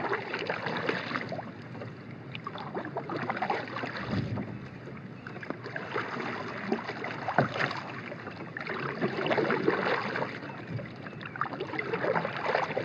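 Paddling a Crescent Crew kayak across open water, with steady splashing and wash from the blades, boat noise and some wind buffeting the microphone throughout, close and fairly loud.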